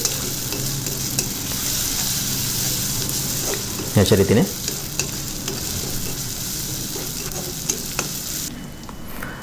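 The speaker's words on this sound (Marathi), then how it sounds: "आता त्याच्यामध्ये 1 चमचा अद्रक लसूणची पेस्ट आपल्याला टाकायची आणि त्याला 1 मिनिटभर फ्राय करून घ्यायचे" Ginger garlic paste frying in a pan for an egg masala, a steady close sizzle with scraping stirs, including a louder burst of spoon scraping midway, while someone speaks briefly.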